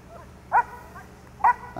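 A 14-month-old personal protection dog in obedience and protection training outdoors gives two sharp, loud barks about a second apart, over a quiet background.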